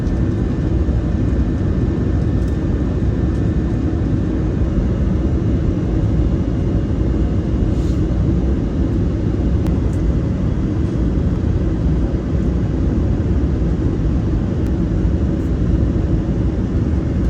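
Aircraft cabin roar during a low-altitude turn before landing at Puerto Princesa, Palawan, a loud, steady broadband engine and wind rumble with no break throughout.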